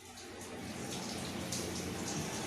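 Shower water runs steadily in a bathroom where an Alexandrine parrot is inside. The spray makes a continuous broadband hiss that grows a little louder over the clip, with no voices.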